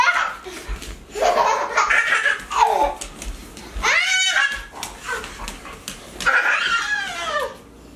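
A pet dog greeting its owner at home in the morning gives a short, high, rising-and-falling whine near the middle, close by, surrounded by excited laughter and chatter.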